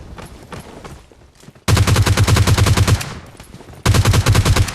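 Rapid automatic gunfire in PUBG Mobile Lite knocking and finishing an enemy: a quieter stretch of game sounds, then two loud sustained bursts of fast shots, the first over a second long, the second starting near the end.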